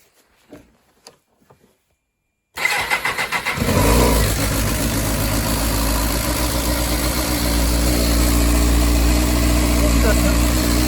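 A Suzuki GSX 600R motorcycle with a loss-of-power fault cranks briefly and fires up, then settles into a loud, steady idle close by. Faint voices and clicks come before the start.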